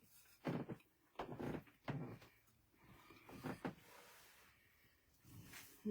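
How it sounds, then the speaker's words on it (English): Wooden floorboards creak underfoot indoors: several short, close creaks and groans spaced irregularly, fairly faint against a quiet room. "My floor is creaking."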